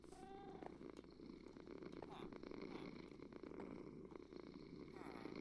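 A cat in the video game Minecraft purrs in a soft, continuous rumble, faint and steady throughout with no voices.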